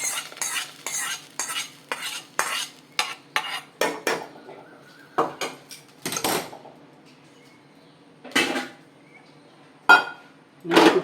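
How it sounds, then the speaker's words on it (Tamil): Banana stem buttermilk kootu stirred in a pan: a run of distinct scraping strokes of a spoon against the pan, rapid at first, then sparser with pauses between, close and fairly loud, with no talk. "இதெல்லாம் நல்லா ஒன்றா கலரிக்கணும்"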